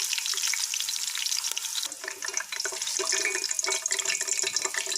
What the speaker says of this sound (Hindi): प्याज़ों को हम ऐसे निकालेंगे ऑयल से।